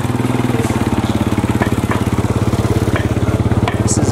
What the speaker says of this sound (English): Careful, motorbike.